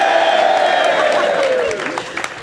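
Loud cheering and applause from a debate audience for Dan Hannan, with sustained raised voices over dense clapping, fading toward the end.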